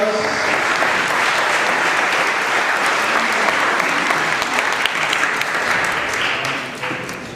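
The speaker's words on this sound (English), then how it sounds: "Please give all the candidates a round of applause." Sustained, loud audience applause at a 2014 sheriff candidates forum, a dense wash of clapping from a full room that holds steady for several seconds before tapering off at the end.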